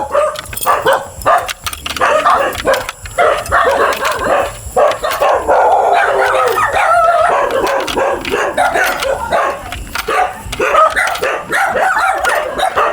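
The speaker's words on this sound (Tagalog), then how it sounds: "maraming aso" Many dogs bark, yip and howl together at night, a loud overlapping chorus that continues without a break and sounds close by.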